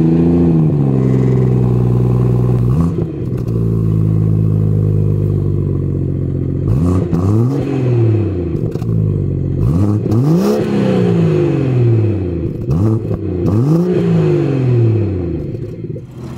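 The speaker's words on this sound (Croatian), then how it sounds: "Sad ćemo vam snimiti malo zvuk auta" A BMW F30 340i xDrive with a 326-horsepower engine is revved repeatedly while standing, each blip climbing sharply and falling back to idle in a loud close series of about five swells.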